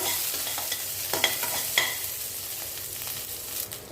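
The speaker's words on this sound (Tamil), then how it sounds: "முந்திரி லேசாக வதங்க ஆரம்பிச்சதும் நம்ம பச்சை மிளகா பச்சை மிளகா சேர்த்துக்குவோம்" Cashews and green chilies sauté in oil in a pan: a constant close sizzle with a few sharp spoon scrapes and clicks of stirring, and no voices.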